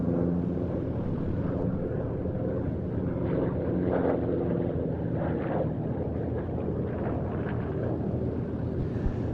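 A P-47 aircraft touches down at an IWM Duxford flying day, its engine a steady low droning roar with wind buffeting the microphone throughout, no speech over it.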